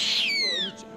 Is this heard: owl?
yes